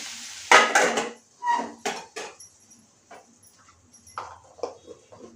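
Okra fry being stirred in an Andhra-style pan, a spoon scraping and clinking against the metal in a few irregular, fairly close bursts with quieter pauses between.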